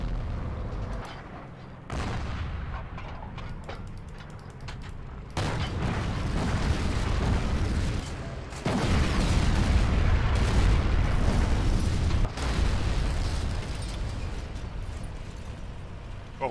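Explosions from Stuka dive-bomber attacks in the Forgotten Hope 2 multiplayer war game, a series of loud deep booms and rumbling blasts that overlap and come in waves, with heavy sustained noise and gunfire.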